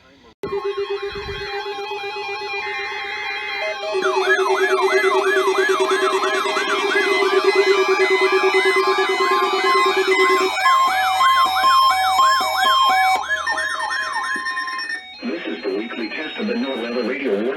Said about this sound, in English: The weekly test of the NOAA radio warning alarm will normally be conducted by the National Weather Service